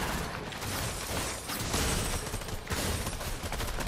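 Minigun firing in Fortnite, a dense continuous rattle of rapid gunfire bursts that runs nearly the whole time, loud and close, with brief gaps between volleys.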